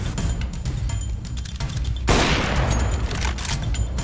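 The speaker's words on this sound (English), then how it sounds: "They're shooting at Joe." Gunfire in the video game CS:GO, a dense burst of rapid shots that erupts mid-clip over an ongoing din of game noise, loud and close with a ringing tail.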